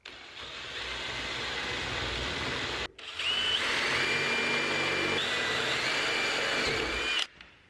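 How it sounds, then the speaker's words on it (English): Power drill boring down through a wooden sliding barn door and the holes of its roller hardware, a loud whining burst that stops briefly near three seconds, then resumes with a pitch shift as the bit bites, and cuts off near the end. "I'm just going to drill down through the door, through the holes in the roller."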